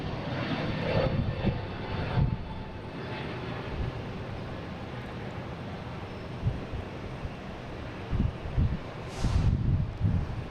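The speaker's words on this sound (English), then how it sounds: "we got a JetBlue taking off, heading to Amsterdam, an A321neo" A JetBlue Airbus A321neo jet takes off, a steady broadband engine roar filling the whole stretch with gusty wind buffeting the microphone and a few louder bursts near the end.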